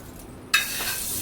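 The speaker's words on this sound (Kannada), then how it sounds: "ನೋಡು ಇಲ್ಲಿ ಹೆಂಚಿನ ತುಪ್ಪದ ಒಗ್ಗರಣೆ" Tempering spices hitting hot ghee in a pan for a home-cooked dosa and chutney meal, a sudden loud sizzle bursting in after a quiet moment and holding as a steady hiss.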